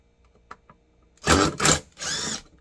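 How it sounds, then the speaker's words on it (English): An impact wrench unscrews bolts during an annual calibration of an SF ExploreIR sensor, giving three loud, close buzzing bursts, each about a third of a second long, after a few faint clicks. "this is an impact wrench, which probably isn't the best thing to use"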